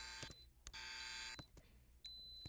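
A fire alarm goes off in a Roblox game, a very quiet electronic buzz with sharp clicks and bursts broken by short gaps, then a steady high tone near the end.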